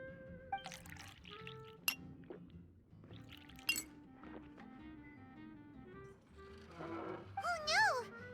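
Glasses clink and juice pours during a drinks scene in Genshin Impact, with sharp bright chimes and tinkling over a busy game soundtrack and faint voices, ending in a louder rising whistle-like flourish.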